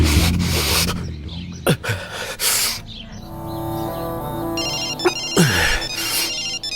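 A melodic phone ringtone repeats its tune loudly after a few sharp whooshes and thumps, with faint noise underneath.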